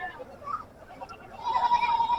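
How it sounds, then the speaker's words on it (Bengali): A goat bleats at a livestock market, a short, wavering cry that rises near the end over murmuring crowd noise. "দু একটি ছাগল আপনাদেরকে আরও দেখাই"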